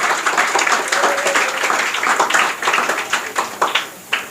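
An audience applauds a second-prize winner at a school confidence-building program, with dense, loud clapping that runs for several seconds, grows more scattered and ends in a few sharp final claps.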